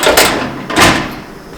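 An oven's heating drawer slides open or shut twice in a kitchen, each a short rolling whoosh with a soft thud, close and fairly loud, with no talking.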